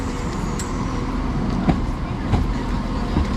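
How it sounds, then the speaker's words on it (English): Train 17417 rolls into a station on the Robin Hood Line, a steady low rumble with faint rhythmic clicks of wheels over rail joints, heard from aboard or on the platform with no talking. "arriving in now is going to be 17417. It's our train to Whitwell."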